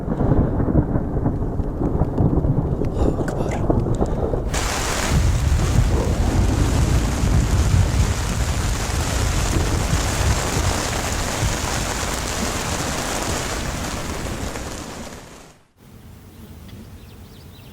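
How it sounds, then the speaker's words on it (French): Thunderstorm with heavy rain in the Pyrenees mountains along the GR10 trail, a long loud roll of thunder rumbling over steady downpour, ending abruptly into quieter rainfall. "Et l'orage."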